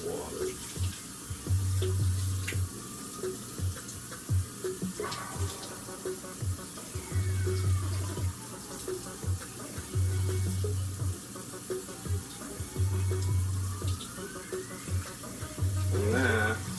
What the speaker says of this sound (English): Now we rinse the noodle with cold water.